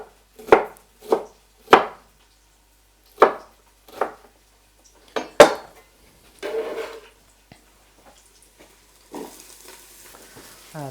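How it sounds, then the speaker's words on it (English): Knife chopping peppers finely on a board: a series of sharp, close chops spaced irregularly, with a softer scrape and light clatter afterward and a faint hiss from the pan. "And I'll actually cut these peppers a little bit finer for the chili."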